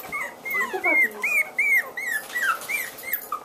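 Several high, thin whimpers and whines from young puppies, repeated in short rising cries at close range, with faint background noise.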